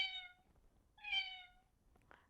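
A recorded cat meow sound effect plays from a sticker on an AnyBook children's reader pen: two quiet, clear meows about a second apart, followed by a faint click.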